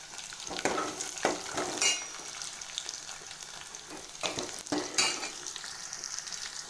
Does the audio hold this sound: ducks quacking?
no